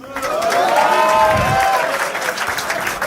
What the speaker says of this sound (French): Yo, applaudissez-le, non?